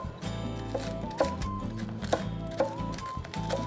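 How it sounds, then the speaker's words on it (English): A knife chops spring onion on a board in a kitchen, a handful of sharp, irregularly spaced taps standing out close against a faint background hum. "Cut up a bit of spring onion in there as well"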